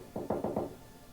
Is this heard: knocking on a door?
yes